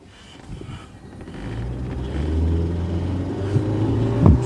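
A Honda Civic engine rumbles and revs on a test drive, a steady low drone that builds over a few seconds, with a sharper rise in revs near the end.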